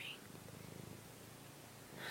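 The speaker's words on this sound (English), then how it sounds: "you hear that, guys? He's purring." A cat purrs softly and steadily up close, a low rhythmic rumble with faint hiss at the start and end.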